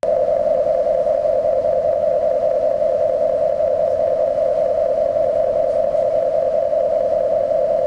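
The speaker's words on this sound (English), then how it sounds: "The gas alarm sounds like this." A rig's gas alarm: a steady, continuous electronic tone holds one pitch without a break, loud and unchanging against faint background hiss.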